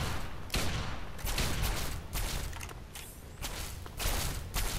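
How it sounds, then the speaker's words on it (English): Gunfire in modded Fallout 3: a rapid string of loud, sharp shots cracks out in uneven bursts with short gaps, close and dominant. "Why is my gun shooting?"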